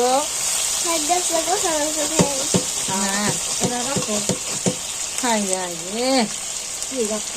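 Meat for kosha mangsho fries in a pan with a constant crackling sizzle, and voices speak over it throughout.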